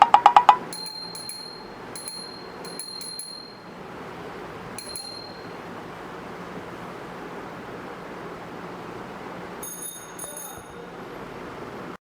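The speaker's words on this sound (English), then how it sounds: "So the final accessory is the bell." Bicycle bell on a Rockrider ST 20 bike, rung in several quick metallic dings near the start, then a few more after a stretch of faint hiss.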